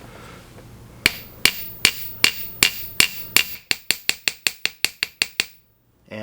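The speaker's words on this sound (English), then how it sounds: "Now I can take my chasing hammer again" A chasing hammer strikes a metal ring being hand forged on a metalsmith's bench, about twenty sharp ringing blows, first at a measured pace and then faster and lighter, close and loud with no talking.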